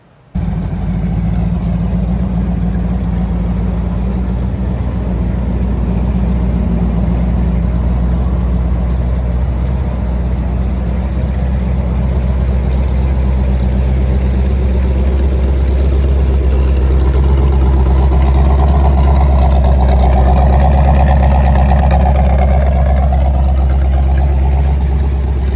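A V8 muscle-car engine in a 1962 Austin Healey tribute kit car idles steadily and loudly up close, a deep continuous rumble throughout with a slight rise in revs toward the end.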